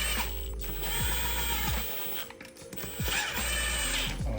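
A ratchet snugging bolts down on an F23 transmission, bursts of rapid mechanical clicking and whirring separated by short pauses, close and fairly loud with no talking.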